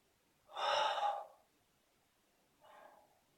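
A person breathes while holding a standing forward bend, reaching the hands toward the floor with a straight back: one strong, airy breath up close, then a quieter, shorter one after a pause.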